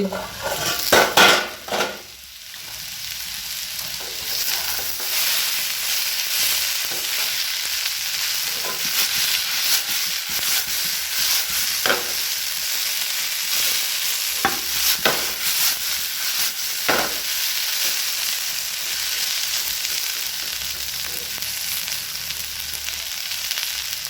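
Potatoes frying with poppy seeds in a pan are stirred with a utensil, giving a steady close sizzle with repeated scrapes and clinks against the pan, no voices.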